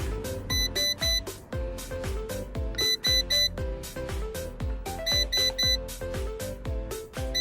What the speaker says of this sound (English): A lot of beeping, a lot of waiting.